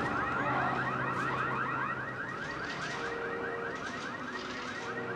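A car alarm blares in the video game Resident Evil 6, a loud, continuous warbling electronic wail that keeps cycling its tones with no voices over it.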